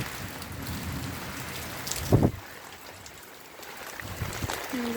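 A downpour hisses steadily over flooded fields and lanes during a thunderstorm, with a sharp, brief thump about midway that may be thunder or a nearby knock, then the rain carries on alone.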